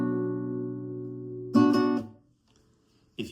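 A guitar chord for a song rings and sustains, then a second strum brings a brighter, louder burst that fades out, with a short sound at the very end.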